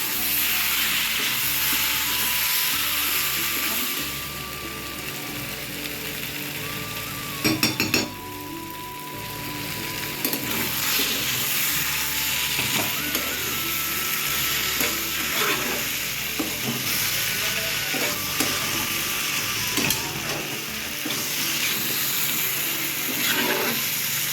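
Food frying in a pan is stirred again and again, a constant sizzle punctuated by utensil scrapes and metallic clinks against the pan, close and fairly loud throughout with no talking.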